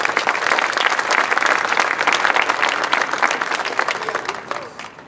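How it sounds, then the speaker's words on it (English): A crowd applauds the AMA members at the Miami Gardens State of the City address, steady full-room clapping that stays loud throughout, then thins slightly at the close, with voices faintly mixed in. "You give the members of AMA a round of applause"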